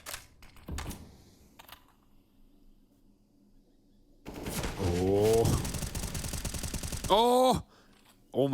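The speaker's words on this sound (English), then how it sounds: "Rain, we know he loves his wall bangs here." Gunfire in a Counter-Strike match at a professional esports event: a quick early volley, a long quiet stretch, then sustained rapid bursts of shots, with loud excited voices layered over the later firing.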